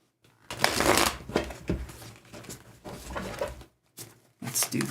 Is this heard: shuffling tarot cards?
yes